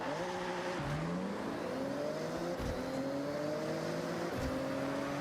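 A Toyota Supra engine in the racing game Forza Horizon 6 revs steadily through the gears with rising tones and brief shift dips, loud and continuous throughout.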